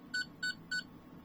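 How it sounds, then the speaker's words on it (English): A 14th Doctor sonic screwdriver toy emits three short, evenly spaced electronic beeps as it switches colour variants, quiet and clear against a faint room hum. "it beeps to tell you which colour variant you're on"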